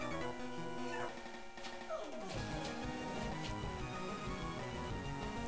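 A dog barks and yips in a Pokémon game, short woofs and a whimpering slide heard over a steady layer of game music.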